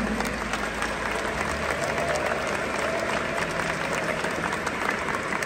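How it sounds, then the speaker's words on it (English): Sustained, dense applause from a large arena crowd at the 2023 Pokemon TCG World Championships closing ceremony in Yokohama, Japan, steady throughout with a broad clapping wash and no talk. "Let's give a big round of applause for all of the Pokemon TCG trainers who competed this weekend"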